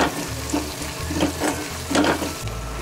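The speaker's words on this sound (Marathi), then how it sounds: "आता व्यवस्थित मिक्स करून घेऊया।" Masala and vegetables are stirred and fried in a pan for Marathi drumstick and potato bhaji, giving a steady sizzle with a few soft scraping strokes of the spoon, close and continuous.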